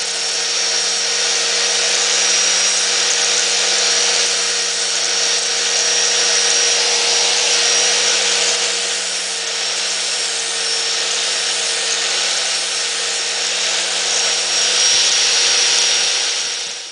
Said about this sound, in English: Just generally dress it up with a sander so it looks like the original part.